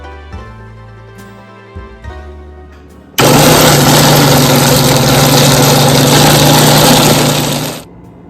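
A kitchen mixer grinder roars loudly and steadily for several seconds while grinding a cooled, dry roasted spice mix, after some lower mechanical humming and clunks beforehand, then it winds down.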